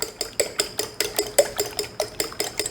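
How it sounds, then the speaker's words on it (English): Eggs whisked in a bowl, a steady rhythm of about a dozen sharp clinking strokes against the side, close and fairly loud with no talking. "I'm going to just whisk these up a little bit."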